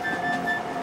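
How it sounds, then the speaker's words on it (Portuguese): A cartoon train grinds to a stop, giving a steady metallic screech with sustained high whining tones for under a second, loud and close with no voices. "O maquinista robô está parando o trem."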